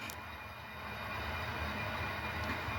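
HO scale model train cars rolling through a rail yard during switching, a steady low rumble with rail noise that swells slightly and holds, no talking.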